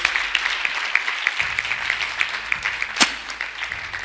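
Church congregation clapping after a testimony about Home Affairs permanent residency, a moderate rhythmic patter of many hands, with a louder sharp clap near the end.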